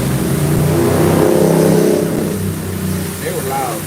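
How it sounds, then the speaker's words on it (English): Loud motorcycles rev and pass by at a car wash in the Philippines, a strong rising engine roar that peaks and then recedes, with someone talking over it. "Ooh, they are loud. Those are actual motorcycles."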